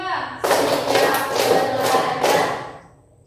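A class of students stands and claps together in a counted clapping game, several bursts of group claps running close together with voices chanting over them, fading out at the end.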